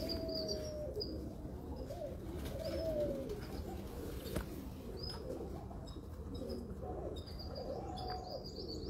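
Breeder pigeons coo in a quiet enclosure, giving several soft, rolling calls spaced across the stretch, with a few thin chirps and a brief wing flutter.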